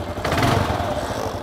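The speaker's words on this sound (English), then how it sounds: "It's a single cylinder thumper" A single-cylinder thumper adventure motorcycle engine, built for off-road riding, runs loud and close with a steady low throb, swelling briefly early on before settling into an even drone.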